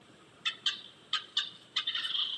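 Wild turkey gobbling outdoors: a short run of quick, rattling gobble bursts, fairly near and clear over quiet background, ending in a longer rolling call.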